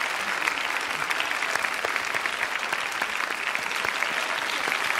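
Steady applause from an audience clapping to honour a guest's mother at a gathering, continuous, even clapping throughout with no voices over it.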